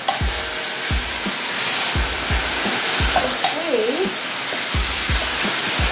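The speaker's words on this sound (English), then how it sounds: "We do the dough and fry." Filled dough frying in oil for a Malaysian dish sizzles loudly and steadily, broken by regular dull knocks and scrapes of a utensil about every second, with a brief higher squeak in the middle.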